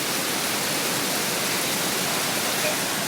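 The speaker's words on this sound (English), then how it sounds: "just had another little rain shower" A light rain shower falls steadily outdoors, making a dense, even hiss of drops close by with no breaks or other sounds.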